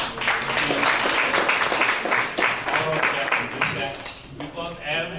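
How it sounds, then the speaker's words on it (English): A dinner audience at an interfaith institute anniversary celebration and award dinner applauds the singers. The clapping is dense, steady and fairly loud for about four seconds, then tapers off as a voice begins speaking. "I would like you to give a big round of applause for the singers before us"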